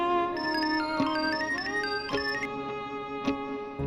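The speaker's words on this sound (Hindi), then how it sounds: "रमेश भैया का फोन है।" A melodic phone ringtone plays a bright electronic tune with several plucky notes, fairly close and clear, with no talking over it.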